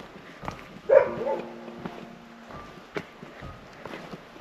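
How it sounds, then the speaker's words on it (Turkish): Several dogs bark out in the open at dusk, each with its own tone, a few distant yaps scattered over soft wind and ambient noise. "Hepsinin kendine ait değişik tonlamaları var havlarken"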